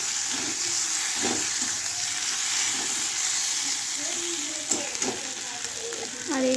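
Potatoes fry in a pan of spiced masala for a potato, pointed gourd and egg curry, giving a steady close sizzle with a few scrapes and clinks of stirring near the end.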